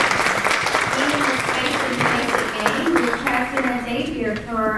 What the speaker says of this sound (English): let's give ourselves a round of applause for being in presence